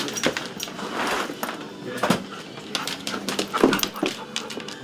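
A dog whimpers, yips and pants close by in short bursts, with a few thumps and a door-like knock mixed in, and someone talks briefly between the sounds.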